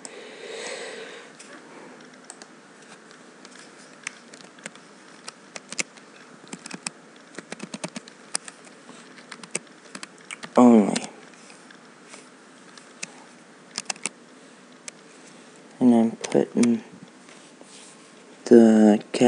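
Router configuration commands are typed on a computer keyboard in scattered, quiet keystrokes and brief clicks, with a person talking in short bursts near the middle and end.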